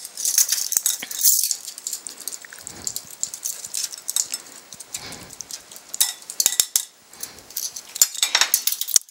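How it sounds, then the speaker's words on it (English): Canned green chilies being drained and shaken in a metal strainer, a close, bright metallic rattling and clinking in irregular bursts with brief pauses between. "I'm draining them a little bit here"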